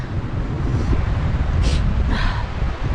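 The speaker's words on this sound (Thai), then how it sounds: "มันลมมากเลยพี่น้องอะ" Strong wind gusting through a forest, a loud steady rush of broadband noise with low rumbling buffeting, likely on the microphone, and brief brighter swells near the middle, with no speech.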